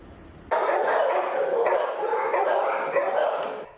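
Several dogs bark together at a crowded animal shelter, loud and close, in a continuous overlapping din of barks and yips.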